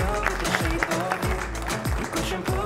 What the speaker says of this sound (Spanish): Un fuerte aplauso para el señor Ariel Staltari, por favor.